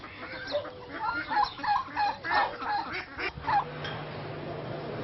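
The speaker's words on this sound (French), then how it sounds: "Mais on continue, nous, d'entendre ces canards" A flock of ducks quacking nearby outdoors, a run of rapid, overlapping nasal calls in uneven bursts that fade out, followed by a steady low hum.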